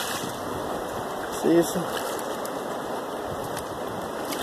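Water washes back and forth in a gold pan as a prospector pans with gentle waves, a soft, continuous sloshing hiss with one brief spoken word partway through.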